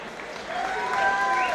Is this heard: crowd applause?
yes